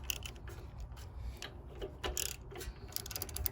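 Ratchet wrench on an extension clicks in quick bursts while breaking loose a spark plug on a pressure washer engine, close and fairly faint over low background rumble.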